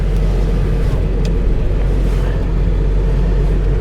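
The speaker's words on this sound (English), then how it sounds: "gotta love the sound of a diesel" A 1999 Ford F250 Super Duty 4x4 with a 7.3L turbo diesel idles with a deep, steady low rumble, heard close from inside the cab with a constant drone.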